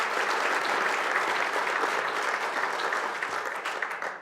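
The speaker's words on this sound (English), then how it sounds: "Let's give a round of applause for the United Football League." At a United Football League press conference in Sacramento, a gathered audience claps steadily, a dense and even round of applause at moderate volume that fades slightly toward the end.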